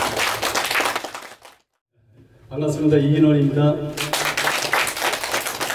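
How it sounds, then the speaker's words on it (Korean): Applause at a Korean traditional music awards ceremony, dense clapping that stops, then someone speaks briefly, followed by another burst of clapping. "큰 박수로 맞이해 주시기 바랍니다"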